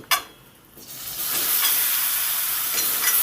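Spiced okra hits hot oil with spice tempering, setting off a loud, sustained sizzle after a few quiet moments and an initial clatter, the frying hiss holding steady and close.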